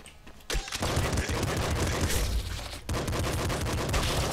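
Assault rifle gunfire in the game Nuclear Throne erupts after a brief quiet start as a dense, loud, continuous burst of rapid shots, with a short dip near the end before firing resumes.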